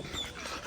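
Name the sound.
puppy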